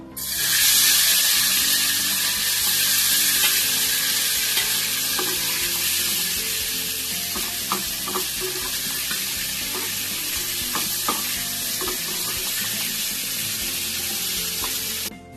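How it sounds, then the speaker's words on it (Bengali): Paneer pieces fry in ghee in a frying pan, giving a loud, even sizzle that holds for about fifteen seconds with faint stirring clicks and no talking. "ফ্রাই প্যানে দেখো একটু ঘি দিয়ে দিয়েছি, আর আমি কেটে রাখা পনিরগুলো দিয়ে দেবো।"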